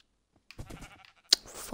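A sheep in the game Kingdom Of The Realm bleats nearby, a short wavering cry followed by a sharp bright blip, heard alone.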